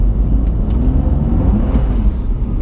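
An AC Schnitzer car accelerates hard in second gear from about 1,000 revs with its wheels spinning on ice, giving a loud close engine rumble and a rising whir with no one talking.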